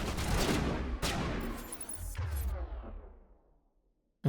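Gunfire in a Mass Effect Legendary Edition firefight with a sniper present: a loud close shot, a second sharp crack and a whooshing sweep fade slowly into a ringing tail, followed by a brief final thump.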